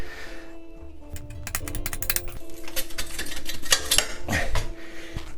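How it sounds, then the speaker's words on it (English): Loosening the bottom engine-mount bolt on a 1987 Kawasaki GPZ600R (ZX600A) during engine removal, with rapid ratchet clicks and metallic taps and clinks arriving in irregular bursts, close and moderately loud. "Now we just need to remove the bottom bolt."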